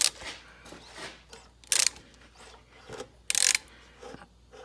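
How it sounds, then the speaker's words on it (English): A crankshaft pulley on a Dodge/Chrysler/Jeep 2.4L engine spins, giving a close mechanical ratcheting, rubbing rattle with two sharp loud bursts of tool noise in between. "this crankshaft pulley is spinning"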